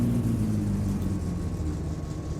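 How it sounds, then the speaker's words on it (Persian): The car's engine in the driving game My Summer Car runs at a steady, low rumbling idle, close and continuous with no other sounds. "ماشین روشن شد"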